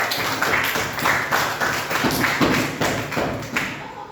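A classroom of students claps for a group coming forward to present. The clapping is fairly loud and dense, with uneven thumping hand strikes, and it continues for several seconds.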